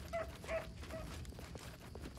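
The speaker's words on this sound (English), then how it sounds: "Dog." A dog in the fantasy video game Arcane Sorcerer gives a few short, faint yelping barks, spaced about every half second, over a low background rumble.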